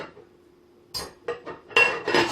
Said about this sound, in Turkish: Kapağını kapatıyorum.